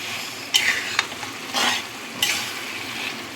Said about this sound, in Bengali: একবার মিশিয়ে দিচ্ছি আবারও।